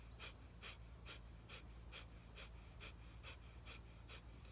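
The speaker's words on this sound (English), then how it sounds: "breath of fire, as I've taught you before in a previous video, is a pumping of the stomach and only breathing through the nose" Rapid, even breath of fire from a Kundalini yoga exercise, forceful rhythmic exhalations pumped through the nose, about two per second, close and steady with no talking.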